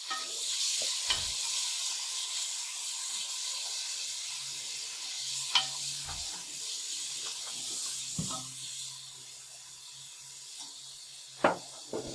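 Potato and cauliflower curry frying in a pan with browned garlic and tomatoes as spoonfuls of water go in, giving a steady close sizzle and hiss with intermittent sharp stirring scrapes of a spoon, no talking.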